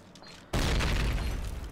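A grenade explodes in the Call of Duty video game: after a quiet moment, a sudden loud boom bursts out and rolls on as a dense, sustained rumble to the end.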